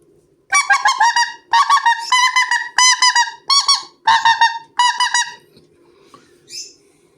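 A goose call horn imitates goose honks in a series of about six loud, close bursts of repeated nasal honks, each a quick cluster of notes, with no voices.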